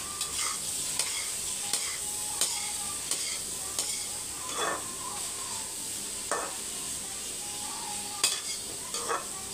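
Carrots are stirred and mixed in a frying pan for a carrot poriyal, with soft scraping strokes at irregular intervals over a steady background sizzle, close, without speech.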